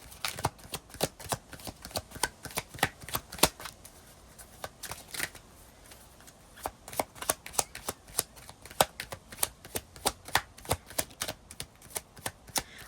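Tarot cards being shuffled for a reading, a series of quick riffling bursts in irregular rhythm, close and crisp, with a short pause partway through and no talk.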